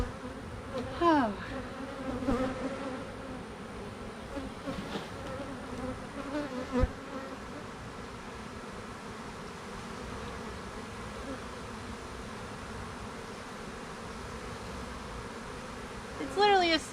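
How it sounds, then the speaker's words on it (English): Honey bees buzzing inside an opened hive, a dense steady hum with a few louder individual bees passing close to the microphone, and brief quiet voices now and then. "It's literally a sea of bees."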